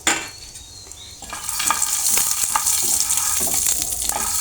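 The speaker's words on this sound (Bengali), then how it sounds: "হালকা একটু তেলে ভেজে নেব বাদামটা।" Peanuts fry in a little oil for a peanut mash, starting quietly and then breaking into a close, steady sizzle with light stirring scrapes and no talk.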